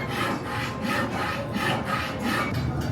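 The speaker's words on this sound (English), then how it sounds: "Not actually sawing anything, you just hear the sound. This is woodworking on the ark." Rhythmic wood sawing, each back-and-forth stroke a rasping whoosh, repeated steadily at close range.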